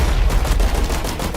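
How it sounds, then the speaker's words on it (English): A charged laser cannon fires at a boss in the game Blast Brigade, a loud, dense, roaring blast with rapid pulsing crackle that sustains for the whole short moment. "We need to charge laser cannon and use it to actually shoot down the guy."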